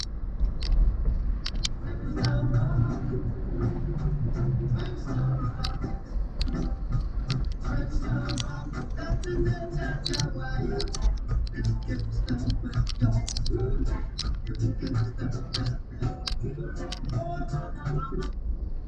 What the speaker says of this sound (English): Now, this is the sound of my stereo in my room at 32, the highest that it will go to.